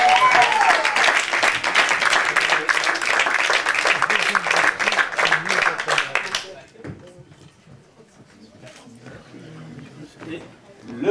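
Audience applause at a Paris poetry slam semi-final, loud and steady for about six seconds before fading into murmurs and an announcer's voice.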